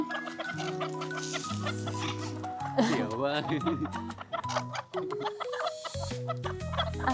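Chickens cluck repeatedly nearby at a peacock farm in Sam Phran, Thailand, while a person talks over them in Thai.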